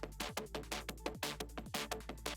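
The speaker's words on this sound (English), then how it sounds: "the next layer that we've got under that is this kind of RP rhythmic bass" Rhythmic synth bass in dancefloor drum and bass style pulses in a quick syncopated pattern, with short pitch-dropping growls and gritty bright buzz over a deep sub, loud and alone.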